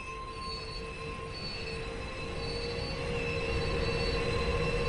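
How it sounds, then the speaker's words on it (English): Train wheels squeal steadily as a train returns along the Luzern–Sursee line in Train Sim World 2, a continuous high metallic whine over a rumbling rolling roar, with no voices. "So that's our train returning now."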